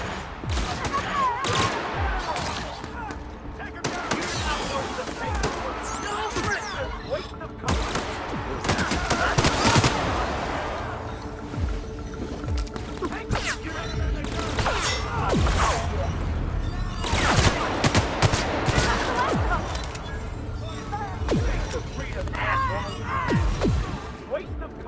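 Sustained bursts of automatic and single-shot gunfire from a sci-fi firefight in The Outer Worlds, loud and dense, in several waves across the whole stretch, with shouted voices and crashes mixed in.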